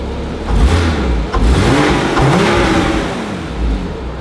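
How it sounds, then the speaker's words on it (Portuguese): A Porsche Boxster engine revs hard and close, rising and falling through a couple of throttle blips before settling back toward idle, loud and alone with no talking. "Dá uma aceleradinha, Rabicó."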